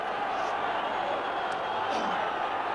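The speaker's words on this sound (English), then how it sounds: "the crowd has woken up after a fairly quiet reception for Wales' scores" Stadium crowd at a 1968 Argentina versus Wales rugby test match makes a steady, broad roar and murmur from a distance, with a constant wash of noise and faint shouts throughout.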